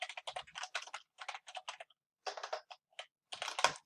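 Typing on a computer keyboard, close and clear, in quick bursts of rapid keystrokes with short pauses between runs, ending in a denser flurry.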